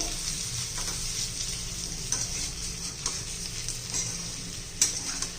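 Stuffed bitter gourds and masala fry in oil with a steady, close sizzle, broken by a few light taps of a spatula against the pan.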